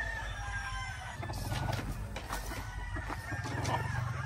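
Boston Roundhead chickens on a clean farm cluck and call close by, with a drawn-out crowing note rising midway over steady low clucking and barnyard hum.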